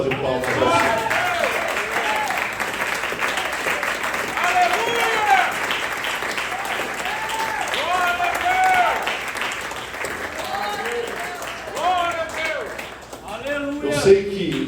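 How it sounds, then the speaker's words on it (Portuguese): A church congregation applauds with sustained clapping that runs under loud voices speaking and calling out over it. "Vamos dar a melhor salva de palmas ao Senhor."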